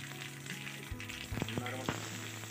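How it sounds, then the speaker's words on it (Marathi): Mustard seeds and cumin sizzle in hot oil, a close crackling fry with sharp pops and spits scattered over a steady hiss. "त्यामध्ये आपल्याला थोडंसं तेल घालायचे आहे। यामध्ये आपल्याला मोहरी टाकायची आहे"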